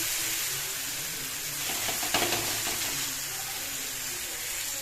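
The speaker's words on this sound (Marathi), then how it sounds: "तव्याला असं छान तेल लावायचं, आणि आपलं थालीपीठ असं व्यवस्थित सगळीकडून टाकून" Thalipeeth, a flatbread, fries in oil on a hot griddle with a continuous close sizzle and hiss, and a brief louder crackle near the middle.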